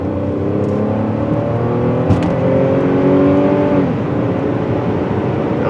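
Buick Lucerne with a 3.9 engine, suspected of misfiring, accelerating at full throttle: a close, steady engine drone whose pitch climbs smoothly for a few seconds, then eases off, with no talking.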